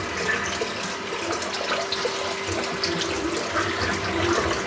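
Water drains and splashes as a bathroom sink full of hair is emptied, a steady close wash of running water with a faint hum underneath and no talking.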